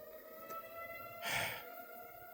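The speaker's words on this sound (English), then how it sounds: "that is basically the exact same sound that the sirens made in Jerusalem during an air raid" A civil defense siren, like an air raid or storm alert siren, sounding as a steady, faint, distant tone that continues throughout, with a brief breathy sigh nearby partway through.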